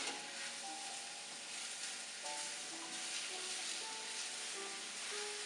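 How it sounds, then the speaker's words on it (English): Apple pieces sprinkled with cinnamon sizzle and fry steadily in a pan over medium-high heat, with a soft, continuous crackle and light stirring scrapes, quiet and with no voices. "I'm just going to saute this."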